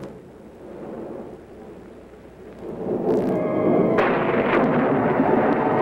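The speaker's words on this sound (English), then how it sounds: "Sounds as if there's a storm brewing." A thunderstorm sound effect in a 1953 comedy film: low thunder rumbles steadily, then swells louder and rolls on without a break.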